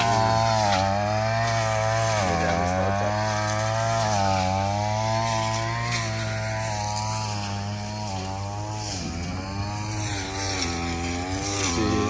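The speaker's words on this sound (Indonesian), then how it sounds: "Tengok ada orang Mr. Ocet Mr. Ocet potong rumput sini" A petrol brush cutter drones loudly and continuously nearby, its engine pitch rising and dipping as it cuts through grass.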